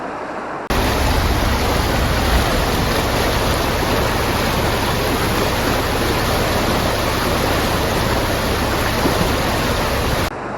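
A waterfall in Kakheti near the Russian border gives a loud, constant roar of rushing water that starts abruptly and holds steady, with no voices.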